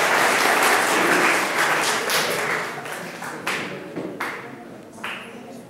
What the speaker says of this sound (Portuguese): Aplausos para o Ítalo